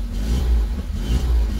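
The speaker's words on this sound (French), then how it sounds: "On entend le compresseur qui tourne." A supercharged Peugeot 205 GTI engine, heard from inside the car, runs with the compressor spinning: a steady, close, low mechanical drone that swells slightly and never drops out, with no talk.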